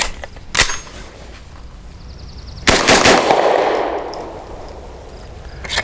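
Two sharp gunshots from an Extar EP9 Gen 2 pistol firing Hornady Critical Duty 135-grain FlexLock rounds, the second followed by a ringing metallic tail and a brief clink at the end.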